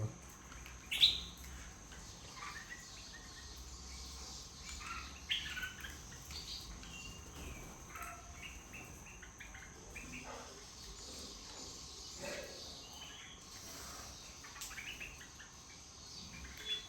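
Assorted birds call and chirp in Mumbai, with short scattered tweets over a steady bed of cricket trill and low background hum, the calls light and moderately distant.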